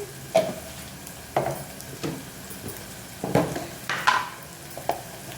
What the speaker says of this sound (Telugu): ఉల్లిపాయ పచ్చిమిర్చి ఫ్రై ఫ్రై అయ్యాక